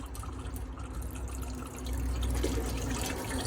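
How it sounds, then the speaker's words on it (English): Cold water runs and sputters from the tap of a 2008 Knaus Van Ti motorhome as air clears from the line, a steady close splashing flow that grows slightly louder partway through. "come to the tap, pull the cold water through"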